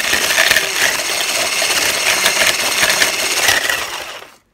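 An electric hand whisk whirring through hand sanitizer mix, a loud, continuous buzzing drone that holds steady for several seconds before cutting off abruptly.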